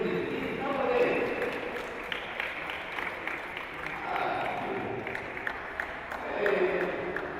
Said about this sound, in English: Can you clap for these people?